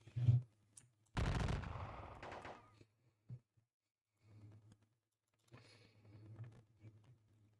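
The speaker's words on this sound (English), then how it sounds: "But any fire is fire, so... Gunfire is gunfire." A burst of rapid gunfire from a Gettysburg battle video game crackles loudly for about a second, followed by scattered shots and softer rumbling noises with quiet gaps between.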